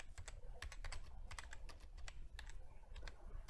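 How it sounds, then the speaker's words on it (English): Fast, steady typing on a computer keyboard, close and fairly loud, with a dense run of sharp key clacks and no talking. "do you have to type so bloody loud?"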